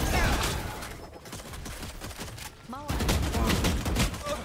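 Dense bursts of rapid gunfire from a Valorant match, loud and continuous with a brief lull midway, mixed with in-game effects and other game sounds.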